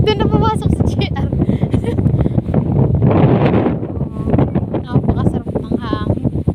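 Steady wind buffeting the microphone, a low rumbling roar throughout with a louder gust near the middle, while a person talks over it.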